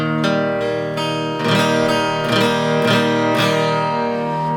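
Acoustic guitar in open E tuning detuned slightly toward D, played in a song, ringing strummed chords with a few rhythmic accents, close and clear with no voices.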